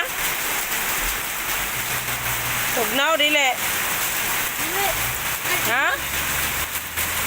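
Steady rain falls outdoors in a constant, dense hiss, while a few people talk and call out briefly over it.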